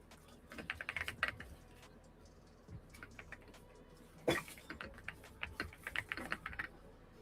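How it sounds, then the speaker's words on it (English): Rapid computer keyboard typing, loud and close, coming in uneven bursts of clicky keystrokes with a few short pauses and one sharper clack midway. "I know my keyboard's loud now"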